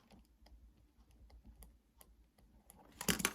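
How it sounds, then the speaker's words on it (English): Soft papery ticks and flicks of tarot cards being shuffled, quiet and close, ending in a louder riffling burst. "Let's shuffle your cards here."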